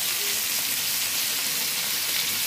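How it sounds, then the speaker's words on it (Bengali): Rohu fish frying in an old wok, giving a steady, close, even sizzling hiss that runs unbroken from start to finish with no talking. "মাছগুলো ভাজার জন্য একটু পুরান কড়াই হলেই ভালো হয়ে গেছি"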